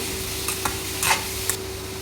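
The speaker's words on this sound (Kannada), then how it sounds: "ಈಗ ಅದೇ ಬಾಣಲೆಗೆ ಮತ್ತೆ 1 ಸ್ಪೂನ್ ಎಣ್ಣೆ ಹಾಕಿ, ಹೀರೆಕಾಯನ್ನು ಹಾಕಿ" Ridge gourd frying in a spoon of oil in a pan, a steady soft sizzle under a few light stirring scrapes of a spoon.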